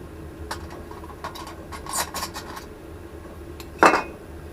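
Metal rings of a Fire Wheel stove clink and knock as they are lifted apart, a few scattered light taps ending in one sharper, louder metallic clank near the close, with no talking.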